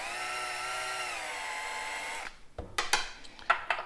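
A power drill whirs steadily for about two seconds while prepping 5.56 military brass cartridge cases for reloading, then stops, followed by a few sharp clicks and light metallic taps of the brass.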